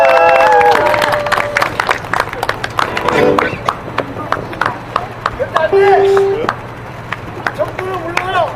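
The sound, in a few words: audience applause at a rally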